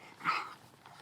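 A dog makes a brief, soft whimpering vocalization close by inside a tent at a campsite, one short burst followed by quiet rustling.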